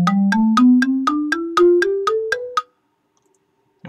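In Song Maker, a quick run of about ten evenly spaced tones climbs steadily in pitch before stopping, leaving a short silence; the blocks percussion voice is set, though this pattern also carries the melody notes.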